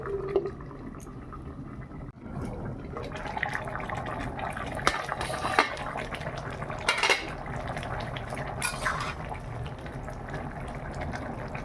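A lid clinks onto a cooking pot of vegetable curry topped with coriander leaves in a home kitchen. The short metallic knocks sit among steady clatter and running-water noise, close by.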